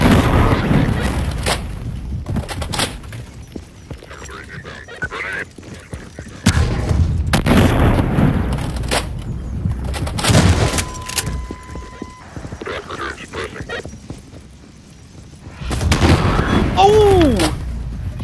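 Gunfire from the Garry's Mod video game, with repeated sharp bursts and shots scattered across the stretch, loud and close, mixed with other game effects and some talk.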